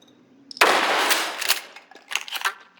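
Bursts of gunfire from a video game level, a sudden loud sustained volley followed by a few shorter rapid bursts, heard alone without talk.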